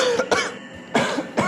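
A woman coughs several times in quick separate bursts, close and fairly loud, with short pauses between the coughs and no talking.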